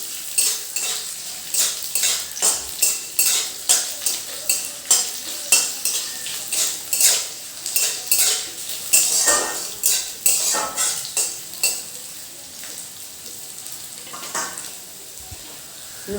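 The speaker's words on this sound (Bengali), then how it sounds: "একটু নাড়াচাড়া করে নেব।" A utensil stirs garlic and green chilies frying in a pan, making rhythmic, regular scraping strokes over a continuous sizzle that settles into a quieter fry near the end.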